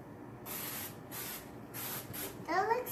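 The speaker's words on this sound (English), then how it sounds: "I'm gonna go ahead and spray these." Several short hissing bursts from a spray bottle misting homemade Doctor Who themed soaps, close and crisp, followed by a voice at the end.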